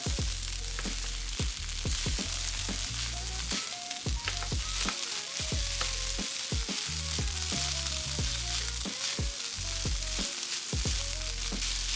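Kimchi fried rice sizzles steadily in a pan while white rice is mixed into the sauce, with repeated scraping and clacking strokes of a utensil against the pan throughout, close and fairly loud.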